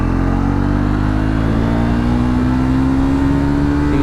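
A Royal Enfield Himalayan 450 or Triumph Scrambler 400X adventure motorcycle accelerates hard through first and second gear, its loud, steady engine note rising in pitch throughout with close wind rush and no talk.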